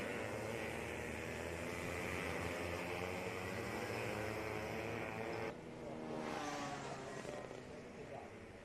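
Racing karts in a Latvian karting championship round, including Tillotson T4 class, roar steadily along the track as a continuous loud engine drone, with a brief dip and another kart's pitch sweeping in near the end.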